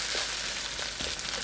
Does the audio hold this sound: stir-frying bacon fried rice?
yes